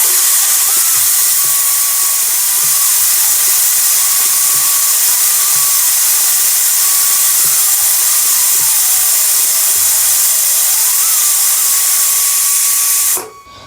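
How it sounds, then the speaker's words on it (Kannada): A pressure cooker on a burner vents steam in a loud, steady hiss with a thin whistling tone wavering above it, running nonstop until it cuts off near the end. "ಈಗ ಕುಕ್ಕರ 3 ವಿಜಿಲ್ ಆಗೈತ್ರಿ"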